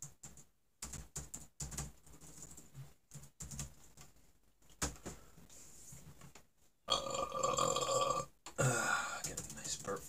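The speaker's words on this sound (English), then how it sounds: "Get a nice burp for the stream." A man lets out a deep, drawn-out burp near the end, amid scattered clicks and tapping of a computer keyboard in a quiet room.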